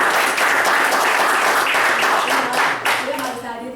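Live audience applauding for a leader, Pak Ridwan, at an Indonesian gathering, dense steady clapping filling the room and tapering off toward the end.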